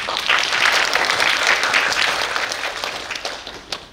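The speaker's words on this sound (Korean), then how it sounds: "박수 한번 부탁드립니다." An audience at a high school admissions briefing breaks into full, sustained applause that stays loud and dense and then slowly tapers off.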